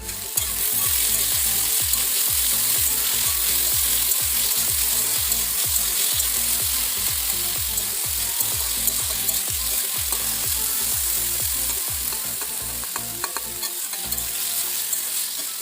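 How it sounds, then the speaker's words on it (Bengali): Potatoes fry in hot oil in a pan, a loud continuous sizzle broken by rhythmic scraping and stirring strokes of a utensil at close range. The sound runs steadily without speech. "কড়াই তেল গরম হচ্ছে, তেলটা গরম হলে আলুগুলো দিয়ে ভেজে নেব।"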